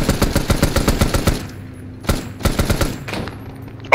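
Bursts of automatic gunfire suppress enemy soldiers in a Vietnam War video game, with rapid loud volleys, a short pause, then more sustained firing and a final sharp shot.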